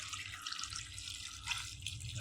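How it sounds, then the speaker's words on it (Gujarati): Water runs steadily from a tap over chopped carrots in a kitchen, a faint continuous splashing and trickling with no talk. "હવે આપણે તેની અંદર આપણે પાણી નાખી દેવાનું છે"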